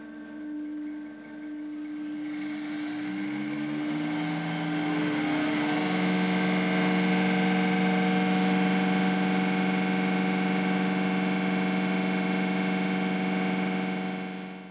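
A diesel VE distributor-type fuel injection pump running on a test bench at 1400 RPM, with a loud, steady mechanical whine and hum that rises in pitch over the first few seconds, then holds constant.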